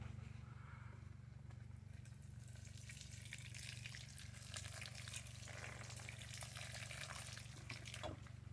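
Water poured onto a potted pineapple plant gives a steady splashing, trickling wash that runs throughout, with a low constant hum underneath and no talking.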